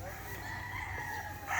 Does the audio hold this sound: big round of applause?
no